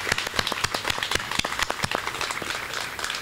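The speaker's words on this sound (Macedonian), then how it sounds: "Затоа сложно да ги поздравиме сите со аплауз" An audience at a Macedonian Language Day commemoration applauds together, a dense, steady round of clapping from a hall full of people.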